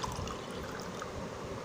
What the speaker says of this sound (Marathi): आता मी अर्धा वाटीला बरोबर दोन वाटी पाणी घ्यायचं